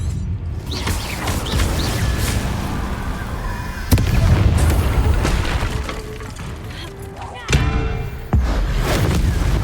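An Incendio fire spell cast in Hogwarts Legacy during a night raid roars amid continuous loud combat noise, punctuated by several sharp booming impacts.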